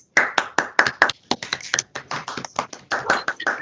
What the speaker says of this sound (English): Please all join me in an upfront round of applause for Simon.